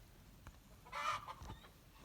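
Chickens clucking in snowy cold weather, one short clucking call with a few softer clucks after it, fairly faint.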